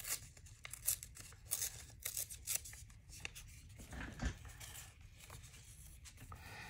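Printed copy paper is torn by hand, a quiet run of short dry ripping strokes, close and spaced about every half second, with no voices over it.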